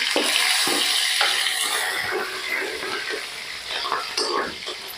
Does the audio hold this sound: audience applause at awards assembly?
no